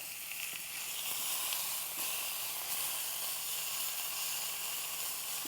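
Meat browning in a pan gives a steady, soft sizzle and hiss throughout, fairly faint with no talking.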